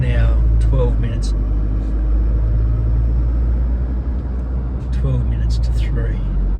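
Inside a moving SUV, a steady low engine and road rumble carries on throughout, with someone talking over it.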